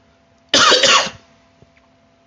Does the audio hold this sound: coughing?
yes